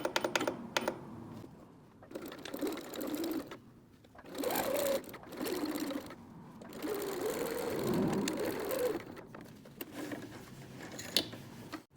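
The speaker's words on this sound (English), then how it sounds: "I'm going to use a straight stitch across here." A sewing machine runs a straight stitch across a headwrap seam, its quick mechanical whirring coming in several close bursts separated by short pauses.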